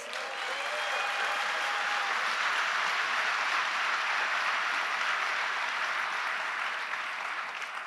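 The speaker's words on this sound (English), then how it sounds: "Let's give them a round of applause" Sustained applause fills a large keynote hall at the Google Cloud Next '19 conference, a dense, even wash of many hands clapping that holds steady throughout, with a faint tonal whistle early on.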